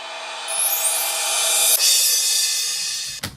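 A layered FL Studio beat element combines a reverse crash swelling upward, a shimmering crash cymbal and bright chimes into one sustained metallic wash that rises, hits and fades over a few seconds, alone without talk.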